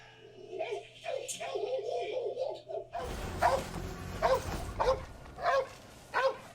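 Dogs bark in a dark hospital scene from an episode of The Last of Us, several barks and yips repeating through the second half, loud and close, with people talking and reacting over the start.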